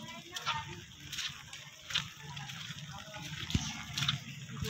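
Floodwater covering a road after heavy rain sloshes and gushes nearby in a steady wash with a few louder surges, while people talk over it.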